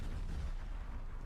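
Explosions in a Call of Duty Zombies match, a rumbling low boom rolling out over a second with a sharp crack at the very end, heard alone without talk.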